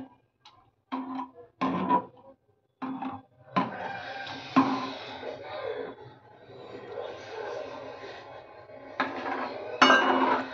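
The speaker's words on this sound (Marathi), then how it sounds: "हे सतत ढवळत राहायचे दूध." A spoon stirs milk in a metal pot for rice pudding, scraping and clinking against the sides in short bursts, then longer steady rubbing strokes, close by with no talk.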